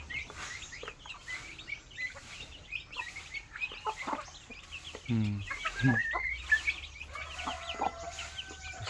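Chickens cluck and squawk repeatedly amid outdoor background noise, with a louder burst of agitated calls partway through.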